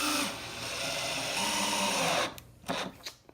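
A power drill drives screws through laminated boards for a wooden flag panel, a close, loud whirring burst lasting about two seconds, then a few short spins and clicks as it stops.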